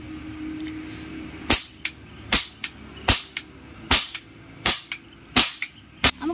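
Diwali firecrackers bursting outdoors, a string of about nine sharp, loud cracks at uneven intervals of roughly half a second to a second, each snapping out over a quiet background.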